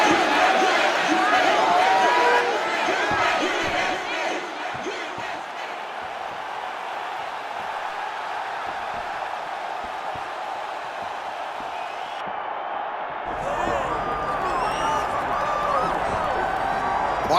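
A packed arena crowd in the EA Sports UFC 6 video game roars and cheers in a loud sustained swell that dips and then surges again, with an announcer's voice over it.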